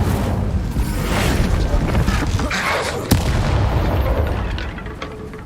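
A fire spell bursting in Hogwarts Legacy, a loud whooshing blast with a sharp crack near the middle, all over continuous low rumbling battle noise.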